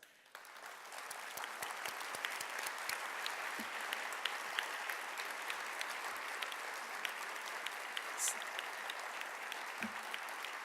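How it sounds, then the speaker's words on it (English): An audience breaks into sustained applause, a steady wash of clapping hands that continues evenly from start to finish. "rise and accept our applause"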